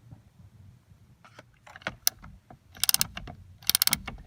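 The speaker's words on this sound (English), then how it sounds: "we're going to remove this center bolt that's right in the steering wheel" A T50 Torx tool loosens the center bolt on a 1994-2004 Ford Mustang steering wheel, giving a series of close metallic clicks and ratcheting rattles, sparse at first and then quicker and louder.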